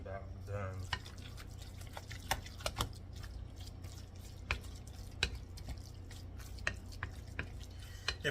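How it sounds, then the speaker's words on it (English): Tuna salad being stirred in a bowl produces a run of soft, wet clicks and squelches at a steady pace, fairly close, over a low constant hum with no talking. "If it sounds like a wet, muddy shoe when you're stirring it up, you're getting close."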